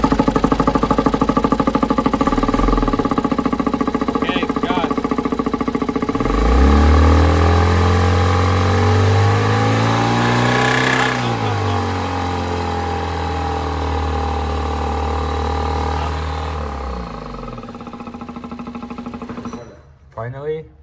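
Renault diesel engine with an injection fault starting on a bench: steady running drone, rising to a louder, higher-pitched rev in the middle and then settling, before cutting off near the end.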